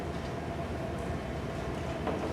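A train rolls past with a continuous heavy rumble and roar, steady and fairly loud for the whole stretch, with no voices.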